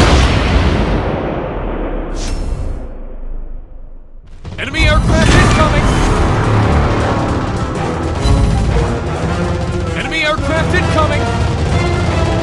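Heavy battleship artillery fire in World of Warships Blitz, with the IJN battleship Kii: a fading roar, then a loud booming barrage of naval gunfire and explosions that sustains for several seconds, close and dense.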